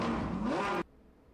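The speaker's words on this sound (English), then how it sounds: "car running or car accelerating" A car engine accelerating as a game-engine sound effect in Unreal Engine 5, a loud, steady revving whine rising in pitch for under a second before cutting off abruptly into near silence.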